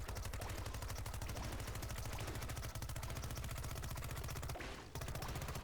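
Rapid steady stream of pea shots from a Peashooter turret in the Nintendo Switch game Plants vs Zombies: Battle for Neighborville, a fast machine-gun-like patter that runs almost continuously, broken by one short pause near the end.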